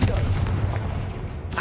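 Fire spell blast in the Hogwarts Legacy video game: a heavy, booming burst with a deep low rumble, close and loud, fading quickly.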